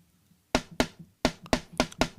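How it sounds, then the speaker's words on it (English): A popcorn snare drum sample hit six times in a quick, slightly uneven pattern, each stroke a sharp, bright crack with a short decay, close and dry with nothing else behind it. "There is a snare called the popcorn snare that I really like."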